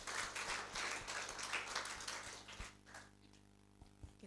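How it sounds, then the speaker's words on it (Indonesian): A church congregation claps together during worship, a dense, steady burst of applause that thins out and fades into near quiet after about three seconds. "Dalam tepuk tangan dan sorak-sorai bagi Tuhan kita Yesus Kristus."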